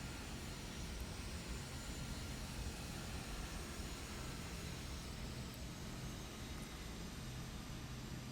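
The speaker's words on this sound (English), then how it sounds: "I'm hoping you guys can hear the engines okay" Steady broadband engine roar of an Epic E1000 turboprop in the X-Plane flight simulator, a constant even drone with no talking over it.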